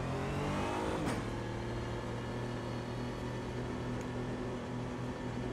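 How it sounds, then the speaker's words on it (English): Porsche turbo engine in Automobilista 2 at Hockenheim, a steady droning engine hum with a sharp rev blip and turbo whoosh early on, then a sustained moderate tone, heard alone. "Love the turbo noise on this thing."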